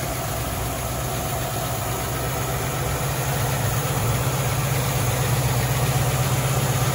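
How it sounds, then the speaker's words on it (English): A Land Rover 110 County Station Wagon with a V8 fitted with header exhaust, Holley carburettor and Edelbrock manifold idles steadily and close up, a continuous low rumble with no talk over it. "I'll just show you the engine running on this Land Rover 110 V8 County Station Wagon"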